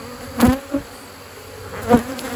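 Honey bees from strong new hive splits buzz close past the microphone in a few loud passes, with a constant fainter hum of the colony behind them.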